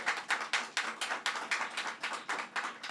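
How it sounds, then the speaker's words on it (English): Audience applause at a public announcement by Governor Hochul in Brooklyn: steady rhythmic clapping from a small crowd, rather faint and distant, continuous and without speech. "let's give you another round of applause here."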